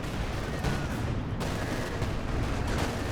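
Off-map anti-tank artillery support strike in the Company of Heroes 2 video game, a dense, continuous roar of blasts and booming impacts that stays loud throughout the short burst.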